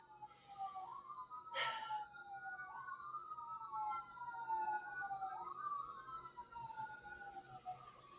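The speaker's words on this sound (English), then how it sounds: "I can't believe these sirens." Emergency vehicle sirens wail outside, rising and falling tones that overlap and drift through the whole stretch, heard faintly and at a distance indoors, with one brief sharp bump.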